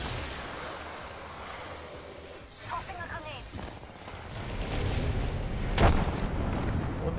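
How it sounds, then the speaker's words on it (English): A grenade explodes in a first-person shooter game with a deep boom near the end, amid ongoing gunfire, rumbling battle noise and a player's voice talking. "Tossing a grenade."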